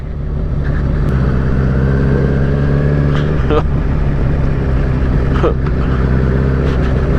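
A motorcycle not built for off-road riding is pushed over rocky ground, its engine a loud, steady close-up drone with a few brief scraping bumps over the terrain.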